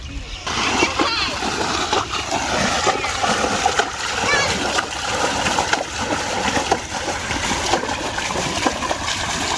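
Water splashing and sloshing steadily as a field is bailed out to catch shing fish, loud and continuous with close bursts throughout, while voices talk over it.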